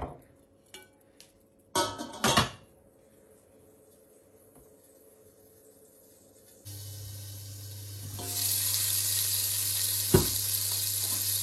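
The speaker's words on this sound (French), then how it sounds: "Il faut laisser le beurre fondre." A few clinks of a pan and utensil, then a steady hiss of butter melting and sizzling in a hot pan grows louder, with one sharp clatter near the end.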